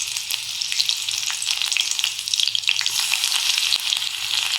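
Mustard seeds and chili fry in hot oil in a kadhai, giving a continuous close sizzle with fine crackling pops throughout and no voices over it.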